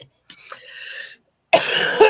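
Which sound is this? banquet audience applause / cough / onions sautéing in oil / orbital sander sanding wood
cough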